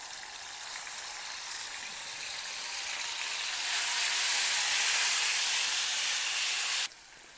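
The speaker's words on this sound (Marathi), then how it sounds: "तेल तापत आलंय की त्यामध्ये आलं लसूण पेस्ट टाकून घ्यायची." Ginger garlic paste hits hot oil for chicken sukka and gives off a loud, steady sizzle and hiss close by. It swells midway and then cuts off abruptly near the end.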